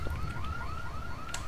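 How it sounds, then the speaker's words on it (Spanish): A car alarm in the video game Dead Island wails in a repeating rising electronic whoop, steady and fairly loud with no voices over it. "Y no se puede apagar la alarma esta"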